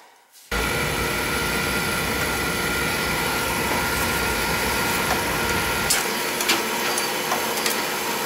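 An old oil burner's pump runs with a steady, loud mechanical whir that starts abruptly and holds constant, with a few faint clicks and a slight shift in tone toward the end.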